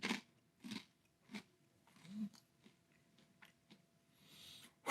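Maple Bacon Donut Malt-o-Meal cereal being chewed close up, with quiet, spaced crunchy bites at an irregular rhythm and no talking.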